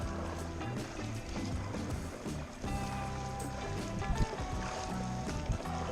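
Paddleboard paddle strokes churn the water near the Brigantine boat ramp, a close rushing splash and swirl repeating steadily over wind noise and a constant low hum.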